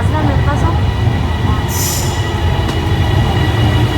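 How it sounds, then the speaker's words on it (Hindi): An airport rail link train pulling into Phaya Thai station, a loud, steady rumble of wheels and carriages close by with a brief high squeal of brakes, continuous throughout. "आई थिंक ट्रेन आ रही है"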